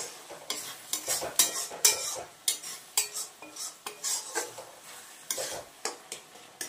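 Meat seasoned with turmeric and salt cooks in a pan with a steady sizzle, while a utensil scrapes and stirs in quick, repeated strokes, close and moderately loud.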